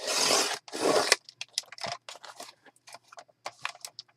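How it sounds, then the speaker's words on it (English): A cutter blade trims paper for handmade faith-themed mini journals: two long, loud rasping strokes up front, then quieter scattered scrapes, clicks and rustles as the sheet is handled. "I'm just going to cut this in half and probably trim off any excess"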